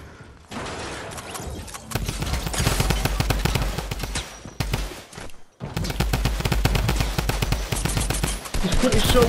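Rapid automatic gunfire in a video game, loud close bursts of fast regular shots with brief pauses between them, under faint background talk.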